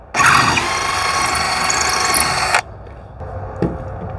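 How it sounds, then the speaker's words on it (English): A power drill bores out a stripped threaded hole in metal, loud and steady with a high whining grind for about two and a half seconds, then stops, followed by quieter handling and a brief knock. "So I have my drill. I'm just gonna drill down as straight as I can."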